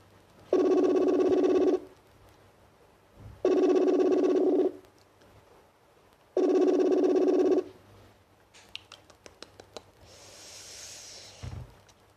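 Three long, even ringback tones from an outgoing telephone call, each lasting over a second with pauses between, loud and close, followed by faint clicks and a brief hiss as the line connects.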